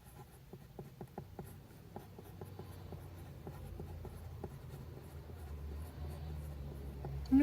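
A Pilot Kakuno fountain pen scratches across thin Tomoe River paper in quiet, close strokes, small rhythmic ticks and scrapes over a faint low hum, ending in a brief louder knock.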